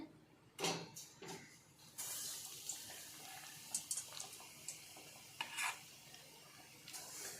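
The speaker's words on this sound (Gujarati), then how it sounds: "આ વડાપાવના વડા કરવાના છે આવી રીતે બધા વડા તળી લેવાના" Potato vada fritters for vada pav frying in hot oil: a steady bright sizzle sets in after a few soft knocks and continues close and fairly loud, with occasional louder crackling bursts and no talk.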